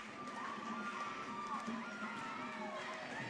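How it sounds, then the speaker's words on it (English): A crowd cheers and hollers in a gym during a girls' high school volleyball championship, a continuous mid-distance roar of voices with shouts rising above it and no single speaker standing out. "Lots of cheers going on."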